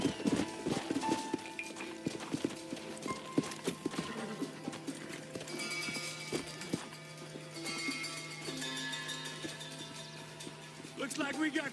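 Horses' hooves clip-clop in the video game Red Dead Redemption. The rhythmic hoofbeats carry on steadily at moderate distance, with game music and occasional voices talking over them.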